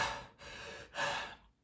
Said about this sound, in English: So go all the way in and then exhale halfway out.